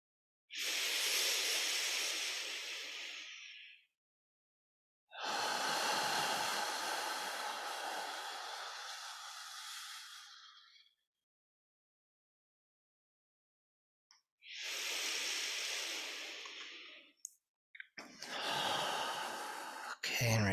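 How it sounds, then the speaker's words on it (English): Three long, forceful breathy exhalations push air out during a somatic meditation breathing exercise, each a loud rushing hiss lasting several seconds and separated by silences, with a final shorter burst at the end. "Make these really push all the air out."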